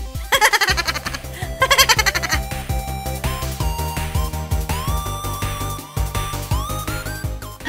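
Sheep bleat in a Roblox video game, several loud, close, nasal cries following one another with short rhythmic thumps in between.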